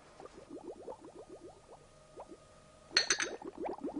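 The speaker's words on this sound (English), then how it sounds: "Nearly boiled, are we, Ernie?" Water nears the boil in a kettle or pot, a quiet run of rapid bubbling gurgles that rise in pitch, with a brief clinking burst partway through.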